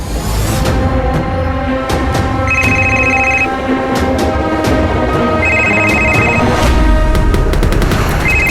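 A mobile phone ringtone sounding in a crime drama scene: two loud, repeated electronic tone bursts ring out over a dense, busy background score.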